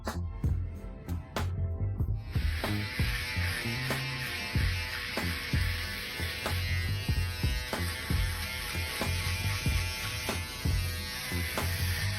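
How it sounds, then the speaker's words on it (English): An electric shaver buzzes steadily and close while working over a high fade haircut, its bright continuous hum starting after a couple of seconds of clicking and handling, with small rhythmic fluctuations as it passes across the head. "Once we have already passed what is the trimmer, let's pass our shaver."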